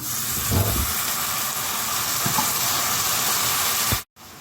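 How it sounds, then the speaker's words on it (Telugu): Chopped tomatoes tipped into a hot pan, making a loud, broad steamy hiss that holds steadily for about four seconds, then cuts out abruptly. "కోసి పెట్టుకున్న టమాటా ముక్కలు వేస్తున్నాను"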